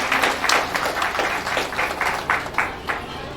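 Clapping at a company foundation-day award ceremony as a top executive receives a shield, heard as a string of distinct, roughly rhythmic claps close by, fairly loud, with no one speaking.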